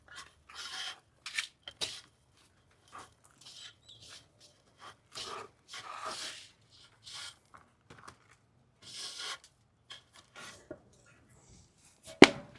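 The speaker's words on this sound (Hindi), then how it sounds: "मिट्टी और डालेंगे हम इसमें, हमारी ये राइस हस्क वाली मिट्टी भी है।" Rice-husk potting soil is scooped and poured into a plant pot in short, gritty rasping bursts separated by quiet pauses, ending with one sharper knock.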